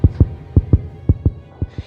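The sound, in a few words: heartbeat sound effect in an audiobook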